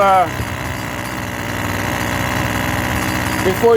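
A Husqvarna chainsaw engine idles steadily while warming up, with a low, even rumble and slight vibration, running alone with a brief bump at the start and end.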